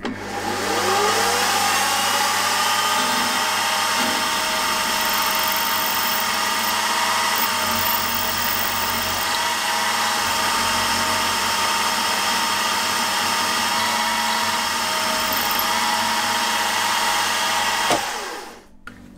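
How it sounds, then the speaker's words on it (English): A 6mm stub drill bores into a metal connecting rod for an opposed twin model engine on a machine, a steady high whine running continuously for about eighteen seconds before winding down. "6mm stub drill."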